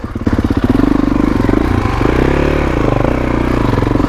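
A 2021 Kawasaki KX450X dirt bike on a single-track trail: its engine chugs loudly and close with a rough pulsing beat, then bogs and labours as the revs sag.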